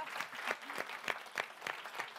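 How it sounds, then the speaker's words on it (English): Applause from an audience at a Lean In Ireland women's networking event, honouring the organisers: a steady patter of many hands clapping, moderately loud and close, with no voices over it. "So a round of applause for my Lean In sisters."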